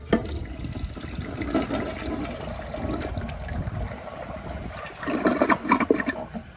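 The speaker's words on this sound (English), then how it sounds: "So here is a half flush, or I guess just a siphon flush." A 1991 Kilgore Aladdin toilet gives a siphon flush: steady rushing water churns through the bowl and gurgles louder near the end, with no one talking.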